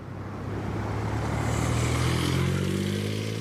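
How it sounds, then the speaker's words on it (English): A Smart car with a loud exhaust rumbles past, its low, throaty drone swelling steadily as it draws nearer, heard alone at moderate distance. "Oh, that is the Smart with the loud exhaust."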